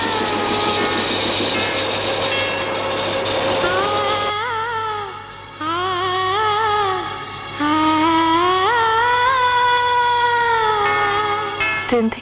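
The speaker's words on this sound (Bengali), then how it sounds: "ট্রেন থেকে এত লোক নামলো, কিন্তু সজীব কোথায়?" A train pulls into a station in a Bangla film scene, sounding long, wavering horn blasts over a low, steady rumble, loud and close.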